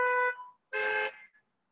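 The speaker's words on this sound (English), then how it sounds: "We love your honking and your lights and your wipers." Car horns honking at a drive-in worship service in a parking lot, two loud sustained blasts with a short gap, the second trailing off into a brief faint toot, no voices.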